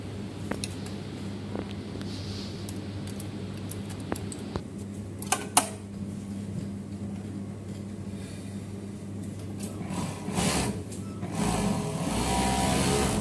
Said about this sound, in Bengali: চেক দিয়ে নিয়ে আমি এখন একটা কাপড়ে সেলাই করে দেখবো সেলাইটা ফিনিশিং কীরকম